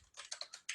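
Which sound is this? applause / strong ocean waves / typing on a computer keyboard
typing on a computer keyboard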